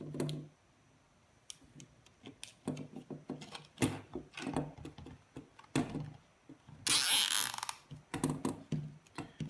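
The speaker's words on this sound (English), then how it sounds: "the idea here is just to get the zip tie as tight as possible" A zip tie is cinched tight on a DJI Mavic Pro drone being rigged for drone fishing, heard as a run of close, sharp ratcheting ticks and clicks in quick bursts, with a harsher rasping stretch near the end.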